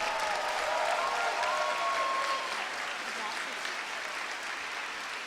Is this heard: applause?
yes